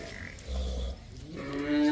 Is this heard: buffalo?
yes